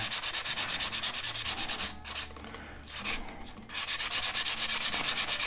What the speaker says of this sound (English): more so on the right hand side of the tube to scuff up the cardboard to give the glue more purchase area